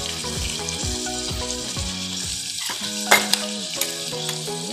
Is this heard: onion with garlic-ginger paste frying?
yes